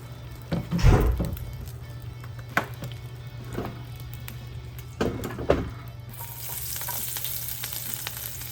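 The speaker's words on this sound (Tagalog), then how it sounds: "So, saute the onion." Chopped onion sautéing in oil in a pan, a low steady sizzle with a few stirring clatters and utensil knocks, then a brighter hiss as the onion hits hotter oil near the end.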